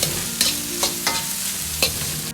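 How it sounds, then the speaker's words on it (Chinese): Cauliflower is stir-fried in a wok over high heat, with several quick scraping tosses of the spatula over a continuous sizzle. "快速翻炒几下，炒出花菜里边多余的水分"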